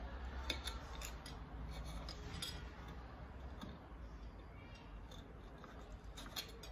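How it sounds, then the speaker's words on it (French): Knife cutting soft fruit flesh into small pieces, a steady run of close, quiet scraping and slicing strokes with faint clicks, no talking. "Vous allez la couper en petits morceaux."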